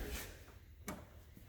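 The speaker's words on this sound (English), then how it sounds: "I'll pop this door so we can check out the interior a little closer here." The door of a 1966 Chevrolet Chevelle SS 396 opens with a faint click and a short thump, then a second sharp latch sound, quiet and close, with no talking.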